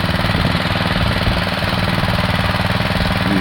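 A Husqvarna TF 230 motor cultivator engine runs loud and close at a steady throbbing rhythm, a continuous rough mechanical clatter with no pauses.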